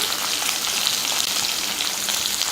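Sliced large onion sautés in hot oil with cumin seeds and curry leaves, giving a dense, steady sizzle and crackle close up, with no talking.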